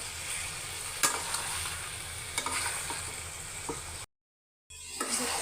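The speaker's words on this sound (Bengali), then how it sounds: "দেখতেই পাচ্ছেন মাংসটা আমি একদম ভালোভাবে কষাচ্ছি" Chicken meat being stirred and fried in a pan, a steady sizzle with a few sharp scrapes of the spoon against the pan, close and moderately loud, broken by a brief silent gap near the end.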